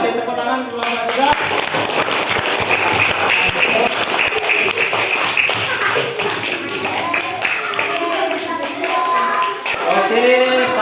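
A group of schoolchildren claps and taps steadily for their classmates of group 3 in an elementary school classroom, with dense, continuous applause and some children's voices mixed in throughout.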